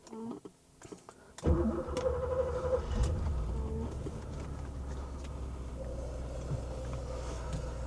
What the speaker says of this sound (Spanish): Una de las cosas que siempre me ha llamado la atención de los 928 es el sonido del motor.